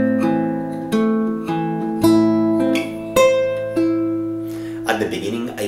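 Fingerstyle acoustic guitar picks measure 7 of a piece from Kung Fu Panda as a steady run of plucked notes ringing over each other, with a brief rattle of strings at the end, close and clear with no talk.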